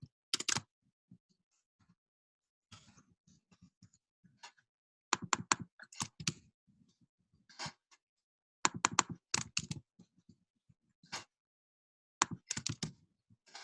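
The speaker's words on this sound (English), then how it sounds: "Somebody's typing here, hold on." Bursts of typing on a computer keyboard in quick clattering runs separated by short pauses, close and fairly quiet with no talking.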